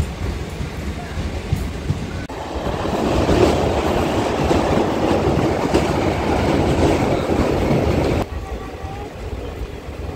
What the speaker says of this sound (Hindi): ये देखें पूरा कोच का नज़ारा और चलती हुई ट्रेन यहाँ से पास